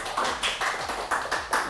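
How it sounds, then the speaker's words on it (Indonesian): An audience at a children's storytelling session claps in a quick rhythmic pattern, a run of sharp evenly spaced claps close by with no talking over them. "Kita berikan tepuk tangan dulu dah."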